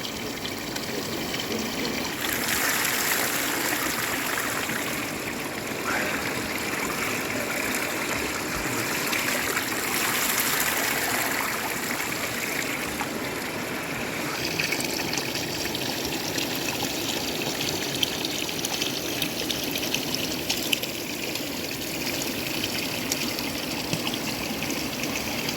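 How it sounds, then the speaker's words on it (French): Water from a steaming hot spring runs and trickles steadily nearby in cold, icy surroundings, a continuous close rushing flow with no voices. "Bercé par le son de l'eau"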